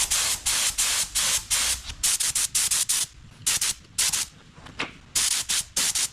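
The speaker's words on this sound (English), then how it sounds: "So I'm going to be spraying this lacquer with a limited edition DV1" A DeVilbiss DV1 spray gun sprays lacquer in short repeated bursts, each about a quarter second, in an uneven rhythm with brief gaps, loud and close, during a classic VW Beetle restoration.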